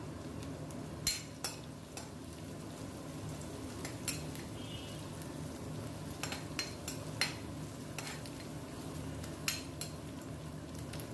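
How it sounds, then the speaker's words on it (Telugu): Slit green chilies frying in oil in a pan while making wheat rava upma, a steady soft sizzle with scattered clinks of a spoon or utensil against the pan. "మిరపకాయలు కూడా మంచిగా మగ్గాలండి నూనెలో మంచిగా ఫ్రై అవ్వాలి"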